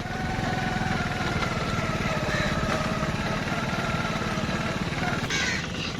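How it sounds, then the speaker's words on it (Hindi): Many crows caw around the historic Baradari building in Lahore, their calls repeating under a loud, steady engine rumble close by. "ये देखिए कितने ज्यादा कौवे जो"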